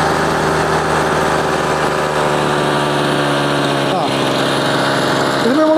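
A small two-stroke brush cutter engine idles steadily and loudly after its carburetor screw has been adjusted, a constant close buzzing drone with a brief dip in pitch near the end.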